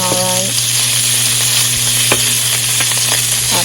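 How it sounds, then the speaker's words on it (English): Halal beef sausage frying in a pan with a steady close sizzle and occasional stirring scrapes, alone without talk, over a constant low hum. "I'm just making sausage."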